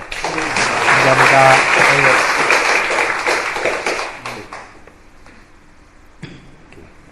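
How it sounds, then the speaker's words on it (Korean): An audience applauds at a talk on a farm produce direct-sales market, a dense burst of clapping that swells early, then thins and fades to scattered claps, with a brief spoken thanks near the end. "큰 박수로"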